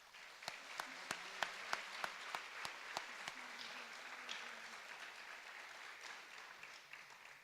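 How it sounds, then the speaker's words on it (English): A high school awards ceremony audience claps in scattered, moderately distant applause, with a few sharp individual claps standing out at first before settling into a softer, sustained patter. "let's give her a round of applause"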